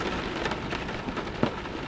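Steady rain falls in a soft, even patter with scattered heavier drops and a faint low rumble underneath, continuous and without any voice.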